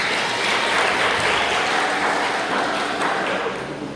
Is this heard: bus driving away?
no